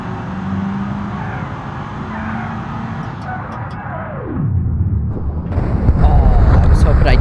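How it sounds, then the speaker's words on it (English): In the BeamNG driving game, a car's engine roars and tires skid before a heavy crunching impact against a truck, followed by louder rumbling and clattering debris, with someone talking over it. "Slamming into a truck and smashing your head on the truck."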